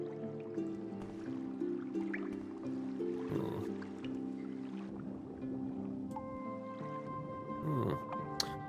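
Wading through stagnant cave water in Morrowind produces soft splashing and sloshing, moderately close, over a sustained tonal game music bed, with a few brighter splashes standing out.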